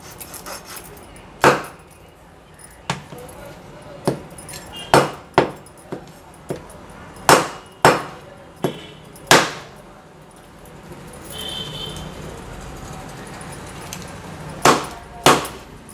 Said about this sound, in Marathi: आता ह्याचे फिन्स आहेत ते आपण कापून घेणार आहोत।